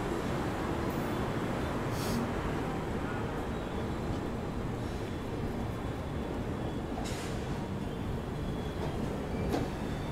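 Pushpak Express train running between stops, heard from inside an empty first-class AC cabin: a steady low rumbling drone with faint rattles and a couple of brief higher squeaks, continuous and moderately quiet.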